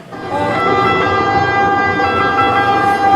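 An ambulance siren sounds during a stage play, a loud, sustained, steady-pitched electronic wail that carries on without a break, with no talking over it.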